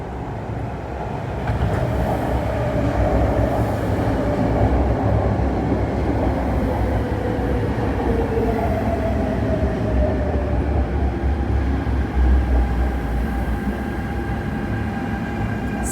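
A Hong Kong MTR train pulls into Nam Cheong Station, a steady loud rumble of wheels and motors filling the platform throughout, with faint tonal whines rising and falling over the continuous roar.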